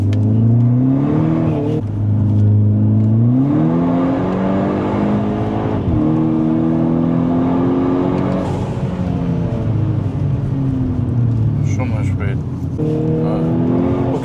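A Volkswagen Golf GTI hatchback with Stage 3 tuning accelerates hard, its engine note climbing steadily through the gears with brief dips at shifts, loud and close, under ongoing talk.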